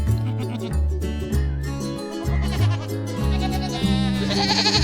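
Goat bleats set against a continuous tonal music bed, with the animal calls blended into the melody and no clear gaps between them.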